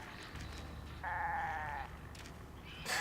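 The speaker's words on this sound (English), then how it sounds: "no, that's a goat" A goat bleats once from a Resident Evil 5 game scene, a short wavering cry heard against a low, quiet background drone.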